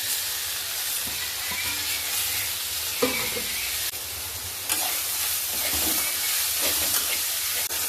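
Tomato, green chili and curry leaves fry in a pan with a constant loud sizzle and hiss, broken by a few scraping stirs and splutters.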